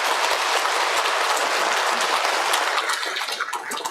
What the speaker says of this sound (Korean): 함영권 유스티노 시민님께 감사의 박수 부탁드립니다